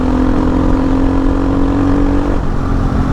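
A motorcycle engine runs loud and close with a steady droning hum while the rider tries to lift a wheelie on an off-road village track in Baghmara. The pitch shifts slightly near the end.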